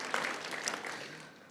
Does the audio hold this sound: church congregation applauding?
yes